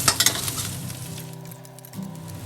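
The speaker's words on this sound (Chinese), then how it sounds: "炒香" Soaked shiitake mushrooms, squeezed dry, stir-fried in a wok: a loud hissing sizzle with a few clinks at first, which settles into a quieter, steady fry.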